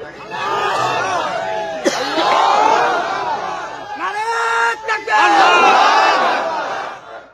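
A large gathering chants the takbir, many voices shouting together in loud rising-and-falling waves that break off, then surge again, with a brief sharp bang early on.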